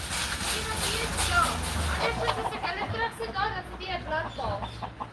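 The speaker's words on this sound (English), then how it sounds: "So she's taking these chickens." Chickens cluck and squawk nearby in short repeated bursts, with people talking over and around them.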